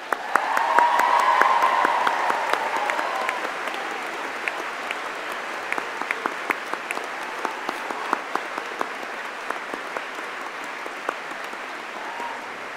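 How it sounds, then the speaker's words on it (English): Graduation ceremony audience applause in a large hall, starting as a full burst with some cheering, then thinning into scattered, distinct claps that continue steadily for several seconds. "join me in thanking them with a huge round of applause"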